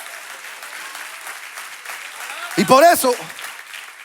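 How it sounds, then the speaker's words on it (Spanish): A church congregation claps in sustained, even applause during a sermon, with a voice briefly speaking loudly over it near the end. "dale ese aplauso a Dios"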